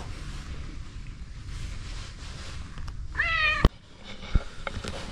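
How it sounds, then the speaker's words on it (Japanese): A single clear meow from a resident cat at a motorcycle shop in Pereira, Colombia, rising midway through the clip over steady outdoor wind and background hum, followed by a sharp knock. "ここの住民の猫です。"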